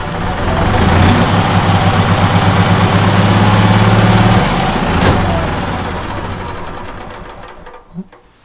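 An Onan generator engine, kept running off a jumper pack, idles loudly and steadily with a mechanical chatter, then winds down and cuts out near the end, leaving a brief clunk.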